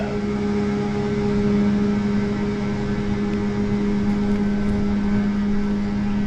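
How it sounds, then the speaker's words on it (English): A loud motorboat passes on the Clinch River, its engine a steady droning hum with strong tonal whine, close and unbroken throughout, no voices. "Well, that boat is loud."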